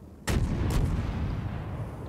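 Naval cannon fire from the IJN Tenryu, a Tier 3 Japanese cruiser in World of Warships: two heavy booming shots in quick succession, each with a sharp crack and a long rumbling tail under low battle ambience.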